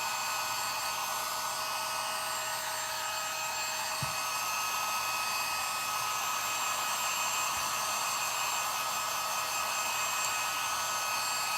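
A hair dryer drying paint on a Dollar Tree cathedral window craft project blows with a continuous, even, loud whirring roar that runs unbroken from start to finish.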